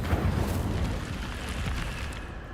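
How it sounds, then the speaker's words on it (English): A fire spell cast in the video game Hogwarts Legacy gives a loud, sustained fiery rushing burst with a rumbling low end, steady throughout with no talking. "Incendio."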